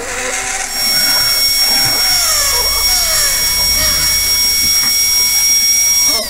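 Loud, harsh drilling noise from the horror video game Hektor, a sustained high whine with grinding, sweeping tones that fills the clip at close range after a brief quieter start.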